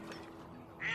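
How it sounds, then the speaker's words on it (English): Ducks in a Duck Dynasty hunting video game give a brief, faint quack at the very end of a quiet moment. "How are those ducks not dead already?"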